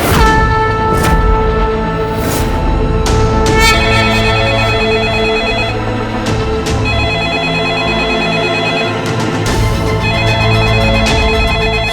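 A telephone rings repeatedly in a loud electronic ringtone pattern, bursts of bright tones recurring throughout a TV drama scene, with no voices over it.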